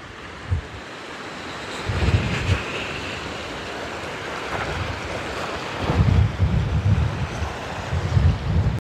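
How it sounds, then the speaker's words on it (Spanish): Cool wind gusting across a stony beach in Peru, heavy buffeting on the microphone with surf washing in the background and louder surges at intervals. "hay un viento bastante fresco que no te invita a meterte al agua"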